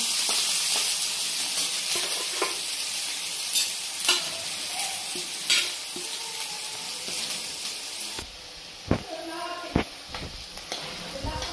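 Onion fries in a pan in a home kitchen with a soft, continuous sizzle and occasional stirring clinks. Near the end, water runs briefly from a tap.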